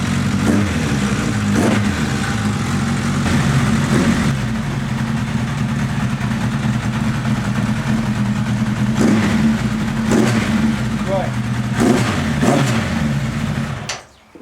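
A car engine, started after three or four months of sitting, warms up close by. It idles with a rough, loud rumble and is blipped into several short revs.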